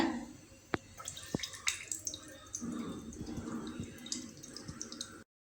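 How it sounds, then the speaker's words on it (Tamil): Water draining from soaked rice being strained in a kitchen while making idiyappam, a faint trickle with scattered drips and splashes at close range. "இந்த மாதிரி நீங்கள் தண்ணியை நல்லா ஃபில்டர் பண்ணிக்கோங்க."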